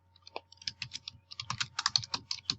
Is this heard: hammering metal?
no